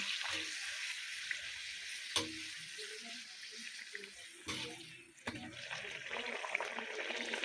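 Luchi puffed flatbread fries in hot oil with a steady, soft hiss and crackle, broken by a few sharp clinks of a utensil.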